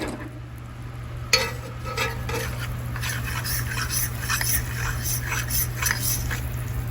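A roux for shrimp étouffée stirred in a pan, a spoon scraping and rustling over a steady low hum with soft sizzling, the strokes growing busier after the first second or so, with no talking.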